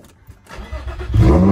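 A Nissan V35 Skyline (G35) engine cranks and catches, building from near silence to a loud, close, throaty idle within a second and a half.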